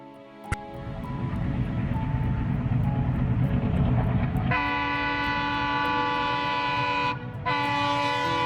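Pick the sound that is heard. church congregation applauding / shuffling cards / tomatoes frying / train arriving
train arriving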